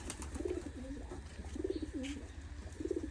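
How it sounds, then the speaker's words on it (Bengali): Pigeons coo in a village home courtyard full of birds, several soft, rolling coos repeating at a relaxed rhythm, fairly close but quiet, over a low background hum with no talking. "মাশাল্লাহ, আমার বাড়ির উঠান ভর্তি কবুতর, দেখেন"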